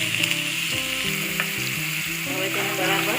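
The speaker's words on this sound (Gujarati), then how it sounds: "હવે તેને બરાબર સાતળી લઈશું." Crushed onion and green chili sizzle steadily in hot oil with a pinch of asafoetida for a Gujarati-style potato curry, a continuous close frying hiss with light stirring under a soft background melody.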